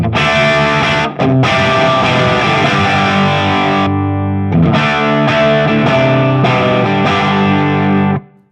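Electric guitar played through an FM9 modelling a Plexi 100 amp with the bright switch off, loud distorted chords ringing out in a short riff with brief gaps and a sustained final chord.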